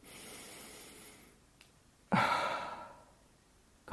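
A single deep, loud inhalation rushes in during a guided hyperventilation breathing exercise, following a softer, fading exhale-like breath, with no talk over it.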